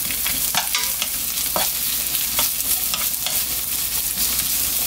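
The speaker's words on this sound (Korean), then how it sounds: "대파를 먼저 넣고 볶아볼게요. 아, 대파와 양파는 같이 넣고 볶아줘도 돼요." Green onion and onion stir-fry in oil in a round pan, giving a steady, loud sizzle with frequent crackling pops and stirring, heard close and continuous without talk.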